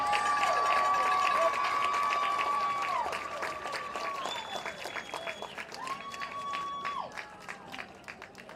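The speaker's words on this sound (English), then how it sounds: "Let's give your baseball team another round of applause." A stadium crowd applauds the 2024 UAM baseball team at a college football game, with steady clapping and cheering layered under long sustained horn-like tones that rise and fall.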